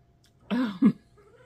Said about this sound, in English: these cats are going to drive me crazy